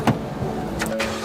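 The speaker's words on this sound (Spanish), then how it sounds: "¿Puede darme encendiendo el motor," A car engine being started, a brief burst of cranking and catching, short and fairly close, with a couple of small mechanical clicks.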